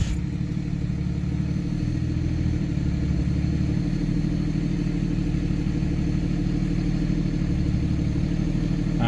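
A motor with a Banshee variable-geometry turbo idles steadily and evenly for the whole stretch, a low continuous rumble with a faint rattling clatter on top, close by.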